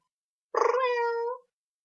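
A flat-faced cat gives a single clear, drawn-out meow lasting about a second, close and loud, with no talk.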